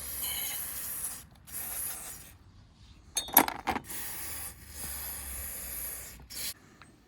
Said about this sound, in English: so I use a bit of carburetor cleaner